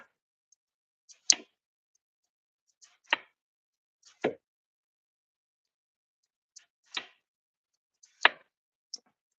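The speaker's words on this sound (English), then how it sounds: "And then I just cut slices." Knife chopping through food into a container in a home kitchen, about seven sharp separate cuts spaced a second or two apart, close and clear against near silence.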